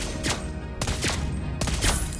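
Gunfire in an online shooter video game, with three rapid bursts of shots spaced evenly about a second apart, loud and close with no talking.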